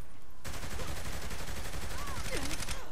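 Gunfire in Saints Row The Third breaks out after a brief pause into a dense, continuous rattle of rapid shots, loud and sustained, with faint voices mixed underneath.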